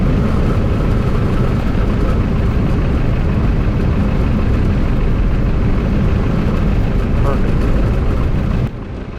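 A small airplane lands on its main wheels after a slip approach, with a loud steady engine and wind roar filling the cabin throughout, then a sudden drop in level near the end.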